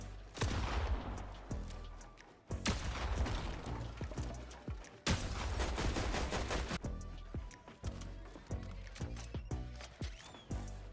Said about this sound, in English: He's just hitting perfectly in the head with the shotgun.